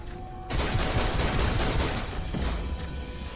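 Sustained rapid gunfire in DC Universe Online bursts in abruptly after a quiet half second and rattles on loudly, easing slightly toward the end.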